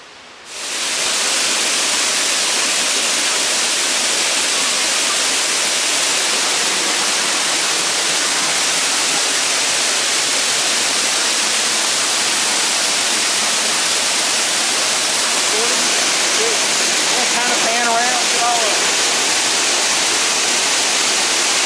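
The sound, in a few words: waterfall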